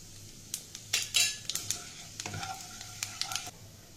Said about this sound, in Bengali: প্রথমে জিরে ফোড়ন দিয়ে দিলাম তেলের মধ্যে